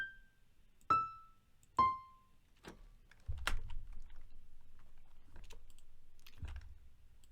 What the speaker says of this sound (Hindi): कंट्रोल ए करेंगे, कंट्रोल और डाउन बटन दबाएंगे कीबोर्ड का